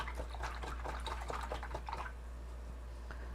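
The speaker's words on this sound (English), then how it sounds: "I'm going to rinse that out" Paintbrush swished and rinsed in a water pot after ceramic glaze work, a run of light splashy drips and sloshes close by for about two seconds, then quiet.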